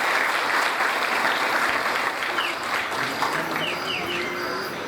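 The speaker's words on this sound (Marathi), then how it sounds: "एकदा जोरदार टाळ्या वाजवून त्यांचे स्वागत करा." Loud, sustained clapping from a crowd welcoming a guest at a Hindu devotional gathering, a Harinam Saptah with Bhagavat katha recitation. It runs steadily throughout with a few faint bird-like chirps near the end.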